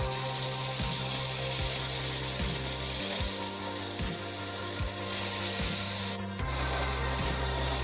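A computer mouse base being sanded by hand in steady back-and-forth strokes, a dry rasping scrape repeating roughly every second, close and alone with no talk.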